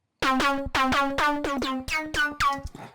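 Detuned synth lead in the style of a track's lead plays a bright, buzzy, harmonically rich riff of about seven repeated notes with pitch-bending attacks, loud and alone.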